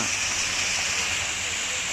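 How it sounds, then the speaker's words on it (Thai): Steady broadband rush of a waterfall at a Thai temple, Wat Mani Wong in Nakhon Nayok, heard as continuous loud splashing water throughout without a break. "เพราะว่าที่นี่มีน้ำตก"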